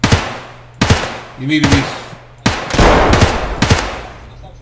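An RPK machine gun fires in Escape from Tarkov, a video game: several loud, close bursts of rapid shots with short pauses between them, and a voice speaks briefly over the gunfire.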